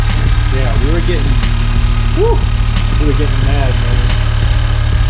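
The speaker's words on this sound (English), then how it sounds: "No engine's a little bit loud" A Honda Civic Type R fitted with a PRL high-volume intake idles at close range, a loud, steady, throbbing engine drone with a voice talking over it.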